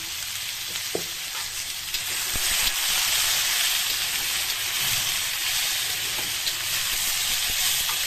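Potatoes with salt and turmeric fry in hot oil in a pan for aloo posto, giving a steady, close sizzling hiss throughout, broken by an occasional soft knock or scrape of stirring.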